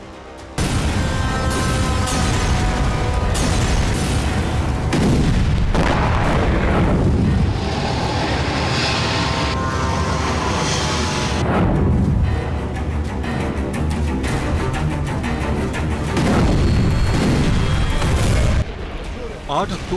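Heavy booming blasts from Spice 2000 bombs striking Gaza during the Israel–Palestine war, loud rolling explosions and rumbling impacts repeating through the stretch, with a voice talking over them.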